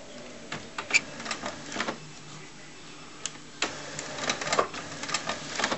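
An HP F4272 inkjet printer whirs and clicks as it feeds paper, with irregular mechanical bursts, motor hums and short clacks up close, alternating with brief pauses.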